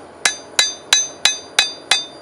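A hammer taps a hot steel knife blade on an anvil during rough forging of a skinning knife, six sharp ringing metallic strikes at an even, steady pace, close and loud with no talking.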